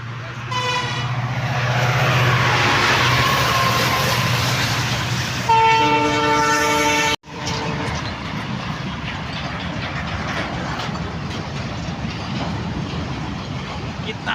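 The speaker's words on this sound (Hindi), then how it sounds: "अभी आ रहा है ट्रेन। तो गाइस अभी ट्रेन आ गया है अभी।" A long train's horn blares loud and close, sustained over several seconds, over heavy rumbling wheels, then the cars keep clattering steadily past after the horn stops.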